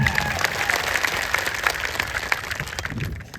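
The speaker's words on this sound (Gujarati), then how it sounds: "આપણા માનનીય ધારાસભ્ય માટે એકવાર ફરીથી જોરદાર તાળીઓ થઈ જાય." A crowd at a political gathering in Zariya applauds an MLA with dense, sustained clapping that carries on throughout and fades out at the end.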